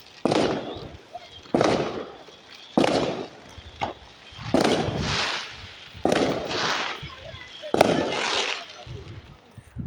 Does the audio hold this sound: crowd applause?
no